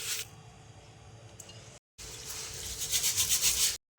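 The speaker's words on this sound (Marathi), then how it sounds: "असं हाताने छान असं चोळून घ्यायची आणि स्वच्छ धुवायची" Bajra millet grains are rubbed and washed by hand in water, giving soft, close wet rubbing and squishing in two bursts with a short gap, the second louder and more rhythmic.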